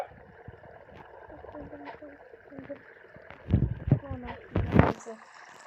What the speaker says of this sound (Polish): To coś wodnego, bo wodę słychać.